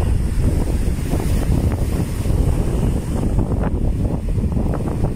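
Strong wind and crashing sea waves during Typhoon Egay at a river mouth, a loud continuous roar with steady surf and heavy wind buffeting on the microphone.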